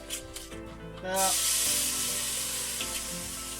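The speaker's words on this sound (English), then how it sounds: "After we've done that, deglaze with wine." A loud sizzle bursts up as wine hits a hot pan of oil-coated grains, then settles into a steady, close hiss and bubbling that fills the rest of the moment.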